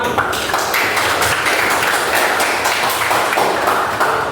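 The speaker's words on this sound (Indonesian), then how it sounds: "kasih aplaus dulu semua" A class audience claps together in steady, dense applause that stays loud and even from start to finish, with no talking over it.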